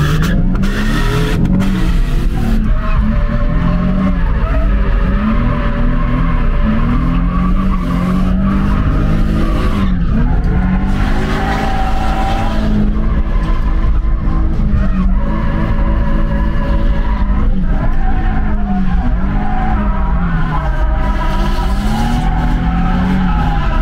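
Drifting car with tires squealing and skidding while the engine revs hard, loud and continuous at a drift event in Hradec.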